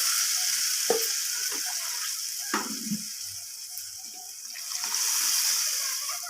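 Water poured into a pan of lightly sautéed vegetables, a steady sizzling hiss with sloshing and stirring clatters while a fish curry with greens is cooked; no talking.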